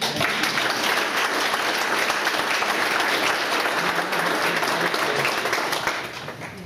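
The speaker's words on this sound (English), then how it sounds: "And I'm gonna clap for y'all." An audience at a school board meeting breaks into sustained applause, a dense, loud wash of clapping that holds steady and then tapers off near the end.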